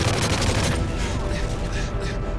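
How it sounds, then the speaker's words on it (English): In Call of Duty: Modern Warfare 3 campaign play, a grenade explosion and gunfire burst out loudly, with a dense rumbling blast and rapid shots fading over a couple of seconds. "Oh, I threw another grenade."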